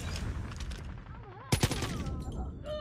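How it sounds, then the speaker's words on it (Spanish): Gunfire from a Holger rifle in an online shooter video game match, with a couple of sharp, loud shots around the middle cutting through busy, dense game noise. "Se escuchó una Holger de ese lado."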